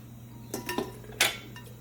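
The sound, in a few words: removable nonstick liner pan of electric skillet handled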